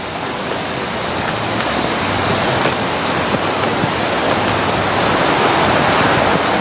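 A first-class mountain valley stream beside rural land in Jangjeon-ri, Jeungsan-myeon, Gimcheon: a continuous broadband rush of flowing water, loud and close, steady throughout with no voices.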